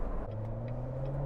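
A 2018 Chevrolet Corvette Z06 3LZ Carbon 65 Edition running just after a cold start, its V8 holding a steady, loud, deep idle with an even hum and no voices.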